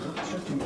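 Pigeons coo softly in a loft, a brief low murmuring burble at moderate distance with no talk over it.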